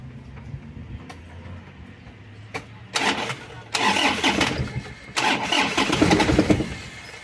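An engine cranks in several bursts, sputtering and catching briefly between pauses, loud and close, before it roughly starts, needing throttle because of a fault.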